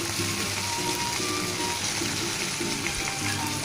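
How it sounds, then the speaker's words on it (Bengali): Cabbage leaves frying in a pan, a steady close sizzle with light crackle running throughout, ending in a brief louder clatter. "বাঁধাকপির পাতাটা দিয়েও একটু ভালো করে ভেজে নেব।"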